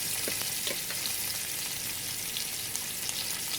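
Butter, rosemary and thyme sizzling in a hot pan make a steady, close hiss with light spattering pops, and no one speaks.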